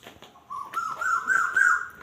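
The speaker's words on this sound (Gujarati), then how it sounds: "કેટલો મસ્ત અવાજ છે કોયલનો." An Asian koel singing in the early morning, a clear rising whistled call that repeats in quick succession at moderate distance, with faint background clatter.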